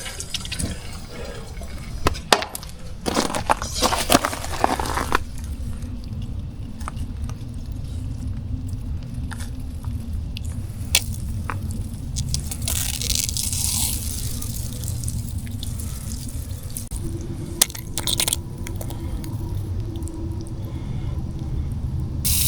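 Water rushes and hisses steadily from a popped-off soaker line in a newly landscaped yard, a continuous spraying flow with a few brief knocks early on and no talking.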